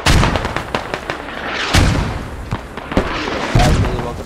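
Hornet missile launcher fire in the video game Squad, a close barrage of booms and cracking explosions rolling over one another, with voices talking beneath the blasts.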